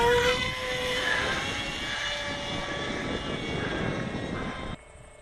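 An RC model airplane motor running steadily at just under half throttle gives a continuous whirring drone with wind noise, close and fairly loud, before cutting off abruptly near the end.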